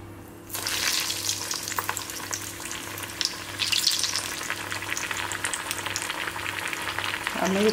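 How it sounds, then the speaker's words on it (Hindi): Rice balls made from leftover rice, filled with cheesy macaroni, dropped into hot oil for deep frying: a sudden burst of bubbling sizzle that stays steady and close, with stirring and scraping sounds over a low background hum. "अब इन्हें डीप फ्राई के लिए मैं इसमें डाल रही हूँ"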